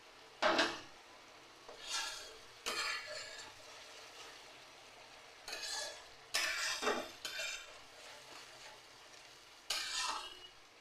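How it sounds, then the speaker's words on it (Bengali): Spice paste being stir-fried in a pan for an egg, cauliflower and potato kofta curry, with intermittent bursts of scraping, stirring and faint sizzling, separated by quiet gaps. "মশলাটা কষতে থাকুক।"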